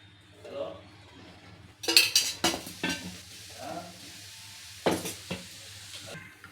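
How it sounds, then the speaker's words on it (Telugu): Two tablespoons of oil heat in a pan while whole garam masala is fried for vegetable biryani. Utensil clinks and scrapes come in short bursts against the pan over a low, faint sizzle. "పెనం పెట్టుకొని దాంట్లో 2 టేబుల్ స్పూన్ ఆయిల్ వేసేసుకోవాలి."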